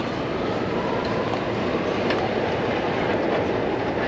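A Sydney Metro train arrives at the platform with a steady, loud rail rumble and a dense rolling roar throughout, and no voices.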